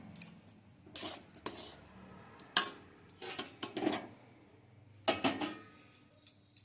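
Semolina dough for pantua sweets being scraped from a wok onto a plate, heard as scattered metallic scrapes and clinks of a utensil against metal, spaced irregularly and moderately close, with no talk.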